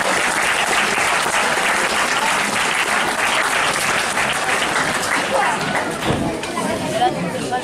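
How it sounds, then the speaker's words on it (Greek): A hall full of people gives loud, sustained applause at a sports club's award ceremony in Argyroupoli, dense clapping throughout with some chatter mixed in. "Ένα μεγάλο χειροκρότημα."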